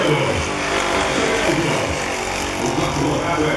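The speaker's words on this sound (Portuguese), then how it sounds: "Passa mais uma vez na frente da galera, acelerando o Lucas" F-400 junior race cars passing in front of the crowd and accelerating, a loud sustained engine roar rising and falling as they go by, with a commentator's voice faintly underneath.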